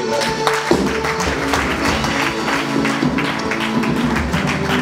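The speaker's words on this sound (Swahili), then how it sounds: "Na wote tupe Bwana makofi." A church congregation applauds during a Sunday service, a dense steady patter of many hands clapping over sustained organ-like music and a busy hall background.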